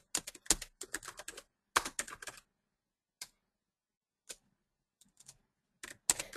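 Bursts of computer keyboard typing as a reply is written, clustered rapid clicks with short pauses between words, close and dry with no talk.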